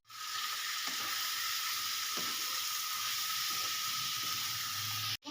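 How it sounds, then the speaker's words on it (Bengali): Mixed vegetables fry with chilli and cumin powder in a pan, giving a steady loud sizzle with a few soft stirring scrapes, cutting off abruptly near the end. "এই সব সবজিগুলো বন্ধুরা আমি সুন্দর করে পাঁচ থেকে সাত মিনিট মতন কষিয়ে নিই"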